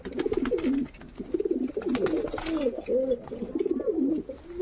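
Pigeons in a loft coo repeatedly in soft, rolling phrases, close by and fairly loud, one call flowing into the next with barely a pause.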